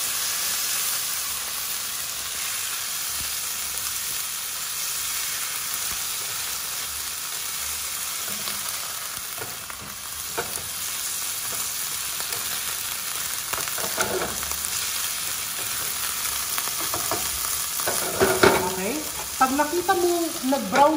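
Beef salpicao sizzles steadily in a hot pan, a constant close frying hiss, and then scrapes and clatters build toward the end as the meat is flipped and tossed.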